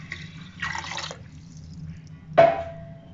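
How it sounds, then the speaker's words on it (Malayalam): Water poured into a pan of jeera rice frying with cumin, heard as a short splashing pour followed by a sudden sharp hiss, close and fairly loud, with no talking. "നമുക്ക് ഇതിനകത്തോട്ട് വെള്ളം ഒഴിച്ചു കൊടുക്കാം."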